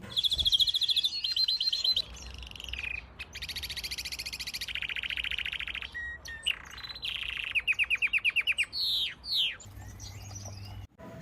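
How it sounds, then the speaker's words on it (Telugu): A canary sings alone in a long, varied song of rapid trilled phrases and clear whistled notes, with short pauses between bursts, close and fairly loud. "కనరీ అనే పక్షులు కూడా మనుషుల గొంతును అనుకరిస్తూ పాడగలవు."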